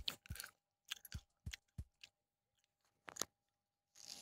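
Sour Skittles candy being chewed close to the mic, a series of soft crunchy bites and wet chews in short bursts separated by quiet pauses.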